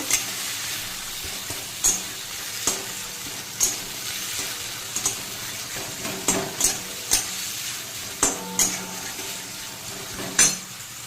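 Onions fry in a pan for egg chowmein under a continuous close sizzle, punctuated by regular metallic spatula scrapes and clinks against the pan every second or so.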